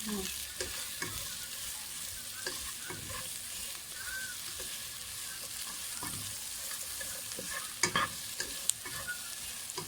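Vegetables, including cucumber with its skin on, fry in butter with no oil, hissing steadily while a utensil scrapes and stirs them in the pan at intervals, close and moderately loud throughout.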